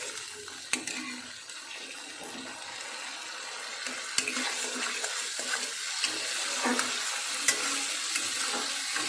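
Spices frying in oil over low to medium heat while making a potato curry, giving a soft continuous sizzle with faint crackles and no speech.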